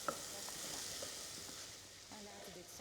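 Finely sliced onion whites fry in melted butter, making a soft, steady sizzle with faint stirring clicks. A voice talks quietly underneath.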